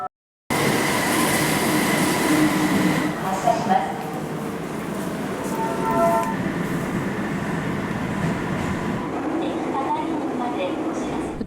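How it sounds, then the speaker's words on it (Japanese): A Kobe Municipal Subway Kaigan Line train, a small linear-motor subway car, rumbles and rattles loudly and steadily underground, with brief squeals from the wheels and a continuous roar. "海岸線の電車はリニアモーターを使った小さめの地下鉄車両なんですね"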